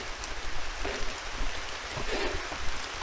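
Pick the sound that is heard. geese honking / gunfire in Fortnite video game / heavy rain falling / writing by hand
heavy rain falling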